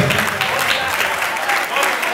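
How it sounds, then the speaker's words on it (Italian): Applause for the volunteers at an end-of-season party, a steady, dense round of clapping from a crowd, fairly loud and continuous throughout. "gli applausi si fanno sempre più forte, applausi!"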